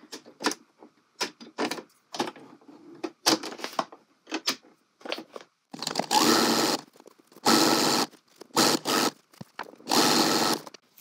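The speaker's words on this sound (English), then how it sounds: "Then we're going to go ahead and stitch that down from the wrong side." A sewing machine stitches a narrow hem in bursts, several short clicks and brief runs at first, then four longer loud whirring stretches separated by pauses.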